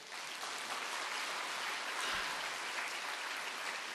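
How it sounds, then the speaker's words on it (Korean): Church congregation clapping in thanks during a sermon, a dense steady wash of many hands sustained throughout without pause. "하나님 앞에 감사 박수 합시다 우리."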